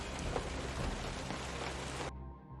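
Heavy rain pours in a steady, dense wash, loud and unbroken, then cuts off abruptly near the end, leaving a faint low rumble.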